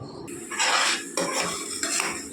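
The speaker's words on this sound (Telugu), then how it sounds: "కొద్దిగా చింతపండు వేయించుకుంటున్నానండి నేను" Tamarind being fried in leftover oil in a pan for a gongura pickle, heard as close, repeated scraping and stirring of a utensil against the pan with a faint sizzle beneath, in short bursts.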